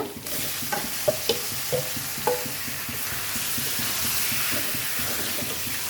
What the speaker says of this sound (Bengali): মাছটা দিয়ে এখন কিছুক্ষণ কষাই নেব